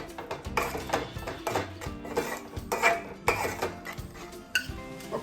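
A spoon scrapes and clinks against a pan while spices are stirred into egg curry gravy, steady repeated metallic taps and scrapes in an uneven rhythm, close and alone.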